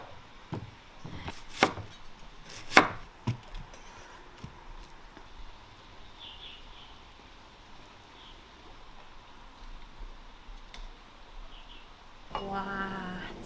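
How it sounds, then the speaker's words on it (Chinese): A knife chops a radish on a board in a kitchen, giving a quick cluster of crisp, close thuds early on, followed by quiet and a brief voice near the end. "这个萝卜还是要切一下哈"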